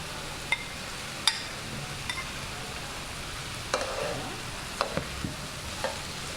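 Dried rice frying in a pan with saffron and masala spices, a soft steady sizzle broken by a few sharp scrapes and taps of stirring.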